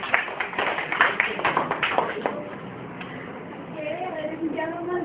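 Audience clapping at a group reading presentation in a classroom, a dense burst of applause for a couple of seconds that fades out as a voice starts talking.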